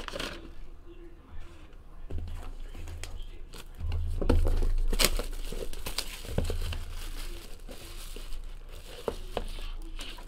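Thin paper wrappers on Panini Court Kings NBA basketball card packs being torn open, repeated crinkling and ripping with shuffling of cards, close and busy for several seconds, with someone talking at times.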